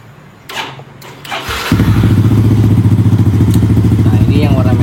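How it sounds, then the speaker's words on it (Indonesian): A motorcycle engine is cranked with a few clunks and a whir, then catches and settles into a loud, close, steady idle with a rapid, even thrum. "hidupin dulu motornya"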